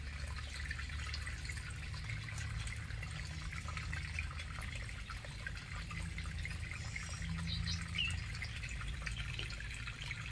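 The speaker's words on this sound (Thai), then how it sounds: "น้ำไหลจ้ะ" Steady running water with light splashing and drips, continuous and close, with a low rumble underneath and no voices.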